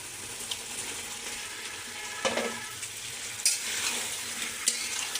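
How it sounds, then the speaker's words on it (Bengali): Cauliflower and potatoes go into a pan of frying koi fish, a steady sizzle with a few sharp bursts and scrapes as the vegetables are added and stirred, without speech. "এখন কিন্তু মাছগুলোতে কপি আর আলুগুলো দিয়ে দেবো।"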